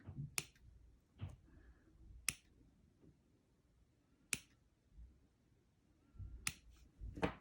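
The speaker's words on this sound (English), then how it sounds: "Here come my scissors. Let's cut those loops." Scissors cut through yarn loops in a quiet room, making about seven sharp, crisp snips spaced irregularly with near-silence between them.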